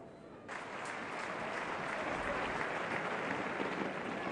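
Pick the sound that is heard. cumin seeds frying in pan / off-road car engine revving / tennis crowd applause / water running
tennis crowd applause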